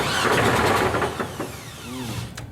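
A LeMons race car engine with solid motor mounts cranks and catches, a dense mechanical rumble with rhythmic chugging that eases into a rough idle, close and fairly loud with no talking.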